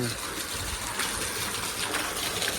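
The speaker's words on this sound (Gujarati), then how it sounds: "મોટર ચાલુ છે તે પાણી જાય છે ગટરમાં." Steady rushing water pours continuously from a running motor pump into a drain, a broad even gush with no pauses.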